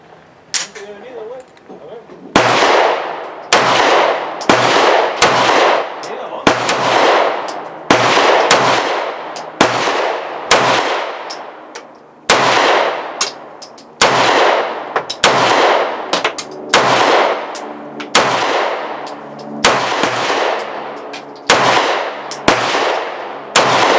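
A Smith & Wesson Model 5903 9mm pistol fires new ammunition, a long string of about sixteen loud, sharp shots close by, spaced unevenly, some in quick pairs and others with short pauses.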